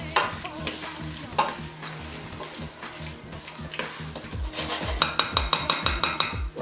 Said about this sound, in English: I'm going to fry that up for about 30 seconds on high heat